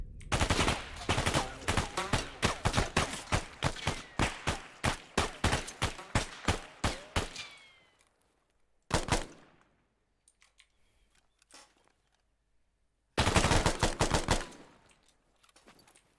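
Loud, rapid bursts of automatic gunfire during an urban warfare drill, a long sustained volley followed by a short burst and another dense burst after a pause, heard close with no talking.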